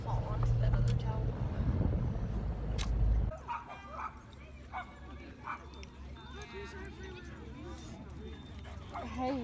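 A Labrador dog barks and whimpers, with short yips and vocal bursts scattered through the clip at close range, mixed with people talking and loud handling noise near the start.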